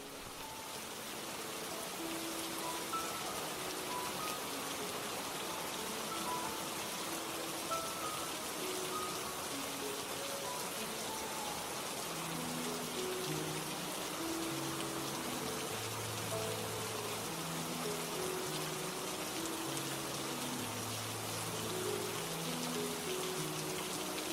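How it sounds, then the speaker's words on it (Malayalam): Steady rain pours at Brindavan Garden in Mysore, a dense, even hiss of drops on surfaces that lasts throughout, with no voices. "അഞ്ചര കഴിഞ്ഞപ്പോഴേക്കും മഴ പെയ്തു തുടങ്ങി"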